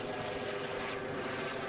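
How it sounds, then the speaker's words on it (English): An aircraft passing over a cricket ground in Barrow Gurney near Bristol Airport gives a steady, broad engine drone that holds loud and even across the short stretch, with no talk. "The plane goes over into Bristol Airport."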